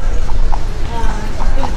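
Horse hooves clip-clop at an easy, irregular pace as a horse pulls a carriage through the streets of St Augustine, Florida, heard close alongside a person talking.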